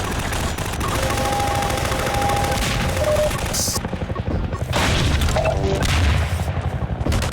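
Rapid gunfire and heavy explosions from a chopper battle in the Half-Life 2: Episode Two video game, loud and continuous with booming blasts throughout.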